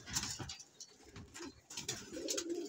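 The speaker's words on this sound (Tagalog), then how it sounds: "Dito naman po ang ibon ni Boss Toto Samson." Pigeons coo softly and close by in a loft, with low, rounded repeated coos over faint background rustle and a few brief higher chirps.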